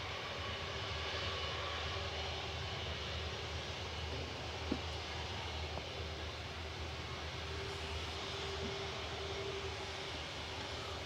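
Engines of Lufthansa Airbus A320 Classic D-AISW, bound for Frankfurt at Manchester Airport, give a steady, faint broadband roar with a low hum, continuous throughout, with a single brief click midway.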